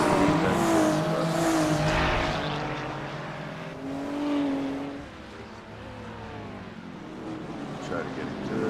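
A GT3 race car in the iRacing video game runs down the mountain section of Mount Panorama, its engine note rising and falling through gear changes with some tire noise, heard steadily at moderate level.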